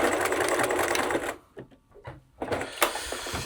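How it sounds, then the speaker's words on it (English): A sewing machine runs a long securing stitch on a welt pocket of homemade shorts, whirring loudly and steadily, pausing briefly, then starting up again. "Can also do like a really long stitch and just sort of like securing it so it doesn't annoy us in kind of the next steps."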